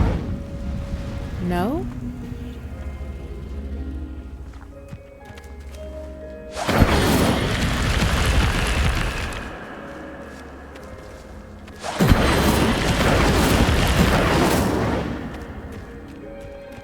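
An Incendio fire spell cast in Hogwarts Legacy on PS4, coming as two loud, roaring whooshing blasts of a few seconds each, separated by a quieter stretch of game ambience, with a voice speaking briefly.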